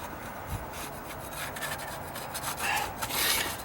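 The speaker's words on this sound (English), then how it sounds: "Now I can go back and scrape along this edge." Scraping tool dragged along the edge of freshly skimmed deck stairs during dry rot repair, a soft rasping rub that continues throughout and grows rougher in short strokes near the end, heard alone at low level.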